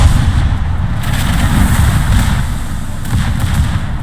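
Small secondary guns on the side of the ship Wujing firing in World of Warships, loud, rapid, overlapping booms and blasts rolling continuously over a low rumble, with no talking.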